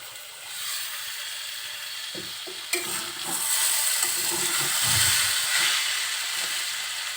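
Potato bhaji fries in a pan with a constant close sizzle while a spatula stirs and scrapes through it in short bursts.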